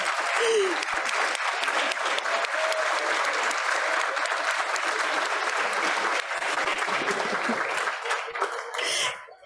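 Rotary Club audience at a festive Fort Worth gathering bursts into steady, dense applause that carries on for several seconds at moderate distance, with faint chuckles and murmurs mixed in before it tapers at the end.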